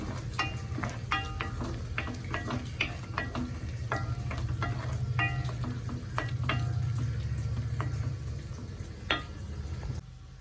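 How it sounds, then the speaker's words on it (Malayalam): Ginger-garlic paste frying in oil and stirred in a pan for a Kerala-style beef fry: a steady close sizzle punctuated by repeated sharp spatula scrapes and taps, with no talking. "ഇഞ്ചിയുടെയും വെളുത്തുള്ളിയുടെയും പേസ്റ്റ് ചേർത്ത് കൊടുക്കാം ഇത് നന്നായിട്ടൊന്ന് ഡ്രൈ ആവണം"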